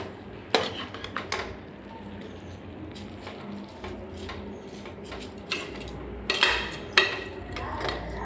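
Rice for a meal being stirred in a cooking pot, with scattered metallic scrapes and clinks of a spoon against the pot over a low steady background.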